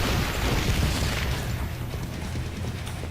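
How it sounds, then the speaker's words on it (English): A grenade blast in the zombie shooter Killing Floor 2 gives a loud, dense boom that rolls on as a sustained rumbling roar through the whole stretch, with no voices over it. "Perhaps some grenade will finish you."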